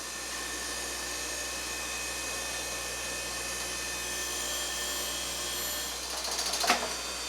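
A surface grinder runs steadily while the magnetic chuck is dressed, giving a constant mechanical hum with a high whine, then a brief louder scraping burst near the end.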